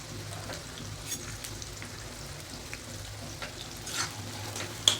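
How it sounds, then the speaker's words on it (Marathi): Sliced onions fry steadily in hot oil for a homemade onion-garlic masala, a continuous close crackling sizzle with occasional stirring scrapes and a sharper clatter near the end. "आपल्याला आपण बिर्याणीसाठी जसा कांदा तळून घेतो तसं तळून घ्यायचं आहे"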